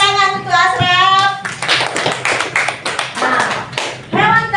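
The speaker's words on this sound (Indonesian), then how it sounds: "Tepuk tangan untuk Asraf." A class claps for a pupil who answered a question correctly, with a short burst of hand claps and taps close by, mixed with children's voices and a brief call out.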